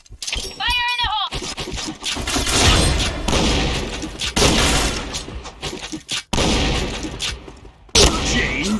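Grenade explosion in the shooter game Point Blank, a loud crackling burst amid dense gunfire and game sound effects, with announcer voices over the action.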